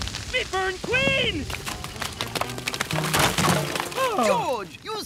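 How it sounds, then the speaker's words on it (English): Cartoon crash as characters are smashed into a termite mound in a jungle setting, with sharp cracking and breaking impacts amid animated voices and squeaky vocal effects throughout. "you smashed them into a termite mound"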